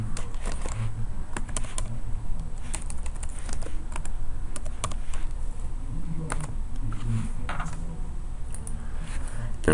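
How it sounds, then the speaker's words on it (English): Typing on a computer keyboard in an office, a steady stream of quick clicks close by with no talk. "In this situation, I'm going to type in the client's name."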